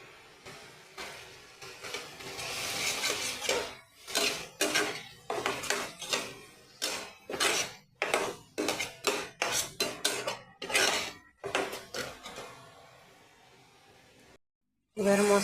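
A spatula scrapes and clinks rhythmically against a pan while spice masala with tomato paste is stirred and fried for a kabuli chana curry, with repeated fairly close strokes and brief pauses between them.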